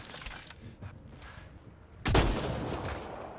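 A weapon firing in the game Mass Effect Andromeda, one sharp, loud blast with a booming tail after a quieter stretch of faint mechanical noise.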